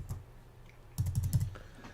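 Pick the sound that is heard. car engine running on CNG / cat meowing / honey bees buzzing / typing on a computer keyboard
typing on a computer keyboard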